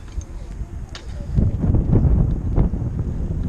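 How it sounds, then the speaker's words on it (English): Wind buffets a microphone while someone rides outdoors, a loud low rumbling gust that rises and swells midway through. "Oh, the wind, I apologize."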